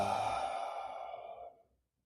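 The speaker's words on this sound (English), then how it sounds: "Audible exhale." One long audible exhale during a yoga breathing exercise, a soft breathy sigh that fades slowly to silence over about a second and a half, close and alone.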